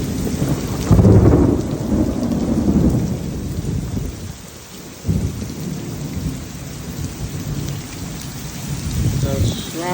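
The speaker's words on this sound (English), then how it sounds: "There's such a crack of lightning." Heavy rain pours down during a storm while a loud, deep rumble of thunder rolls through the first few seconds, then the downpour continues steadily with lighter rumbling underneath.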